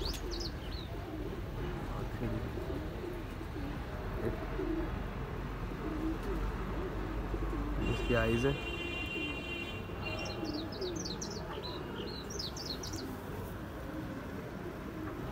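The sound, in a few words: pigeons caught at the border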